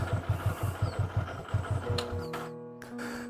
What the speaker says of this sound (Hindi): अब हम लोग गाड़ी को स्टार्ट कर लेंगे।